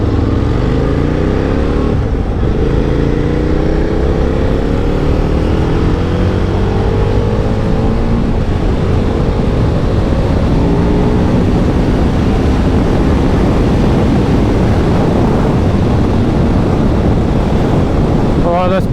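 A KTM Super Duke 990 motorcycle ridden at speed, its engine note rising and falling through gear changes under heavy steady wind rush, loud and close throughout.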